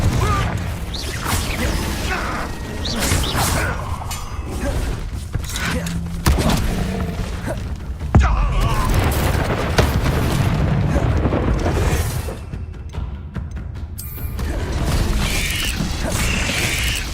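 Confringo fire-blast spells exploding during combat in the video game Hogwarts Legacy, a loud, dense stretch of booming blasts and clattering mechanical effects that runs continuously with no pauses.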